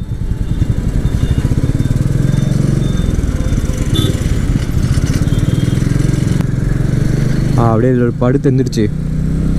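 A Royal Enfield Meteor 350 motorcycle engine runs with a steady, loud single-cylinder thump throughout, while someone speaks over it near the end.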